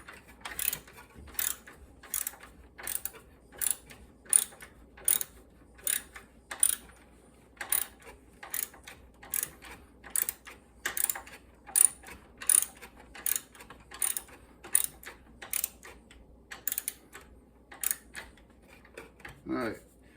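Roller nut being tightened on a NordicTrack treadmill deck with a ratchet: about twenty-five crisp, close clicks at a steady, even pace, with quiet room tone between them.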